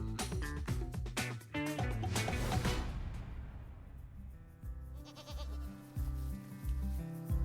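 Goats on a farm bleat in a burst of loud, overlapping calls over the first few seconds, then quieter, more scattered bleats follow.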